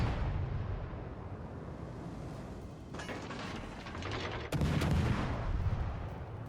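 Warship main guns firing in World of Warships Legends, heavy booming blasts rolling over a constant low battle rumble, with a louder salvo near the end.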